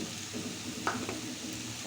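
Onion, tomato, ginger and garlic fry with a spice paste in a pan, giving a continuous close sizzle with a short scrape of stirring midway.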